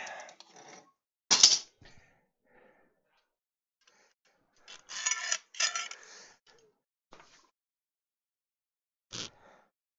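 Metal clamps knocked and set down on a hand-tool-built wooden workbench top, giving a few sharp clanks and clicks in separate bursts with quiet gaps between.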